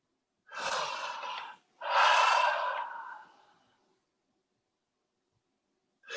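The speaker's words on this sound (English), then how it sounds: "just take a deep breath" Two deep, slow breaths taken up close, a long airy inhale followed by a longer exhale, then quiet, with no talk over them.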